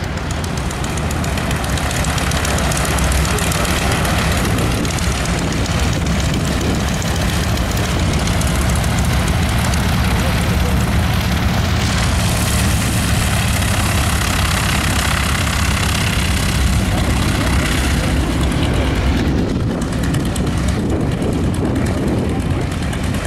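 A vintage aircraft engine idles on the ground at the Wings Over Waukesha airshow, a loud, continuous low drone that stays steady throughout.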